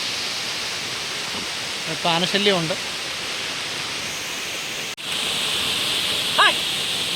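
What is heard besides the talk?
Manpilavu waterfall flowing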